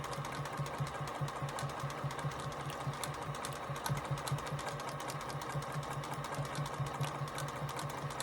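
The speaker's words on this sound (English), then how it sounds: "Just take your time and keep sewing" Sewing machine stitching quilted postcards, a fast steady rhythmic needle chatter close by, running continuously with no pauses or voices.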